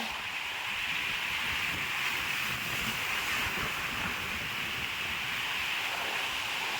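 Big Pacific Ocean waves breaking near a rocky shore, a continuous hissing wash of surf mixed with wind buffeting the microphone, steady and fairly faint.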